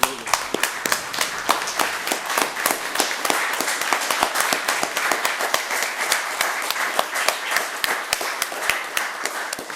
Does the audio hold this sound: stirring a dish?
no